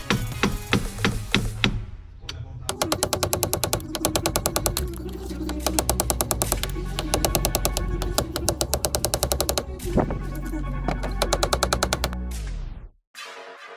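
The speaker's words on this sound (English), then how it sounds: "This one is stuck, so I will help myself with hammer." Rapid, loud metallic hammer blows strike a stuck car A/C compressor in fast bursts, with brief pauses between volleys and a sudden stop near the end.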